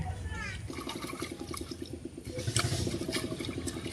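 Running water splashing steadily while young pumpkin leaves are washed clean at home, close by, with a person talking over it.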